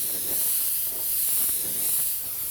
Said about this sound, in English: I want to test it here, see how it's spraying. It's spraying good.